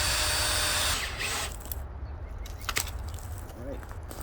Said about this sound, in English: I'll have to countersink them a little.